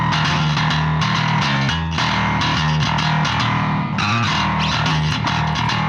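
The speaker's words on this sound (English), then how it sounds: "I like to use bass distortion" A bass guitar heavily distorted through a Mammoth plugin plays a gritty, driving metal riff, loud and upfront, with notes changing every second or so.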